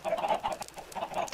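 Chickens clucking on a Minecraft chicken farm, a short burst of soft, rapid, overlapping clucks close by with no talking.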